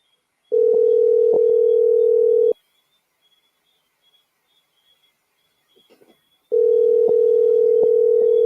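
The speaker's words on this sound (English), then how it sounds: "Seems like we have a caller coming in. I hear the phone ringing." A telephone ring tone on a call-in radio program sounds as two long, steady electronic bursts, each about two seconds, separated by several seconds of near silence with faint clicks.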